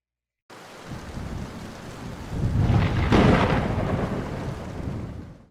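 Thunderstorm with heavy rain, a constant hiss of rainfall broken by a deep rolling thunderclap that swells loud in the middle and then slowly fades.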